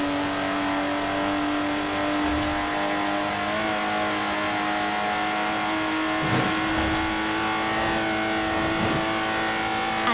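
A Lotus Exige sports car engine drones steadily while driving in the racing game Forza Horizon 4, with a sustained mid-pitched hum and a few brief surges as the revs shift.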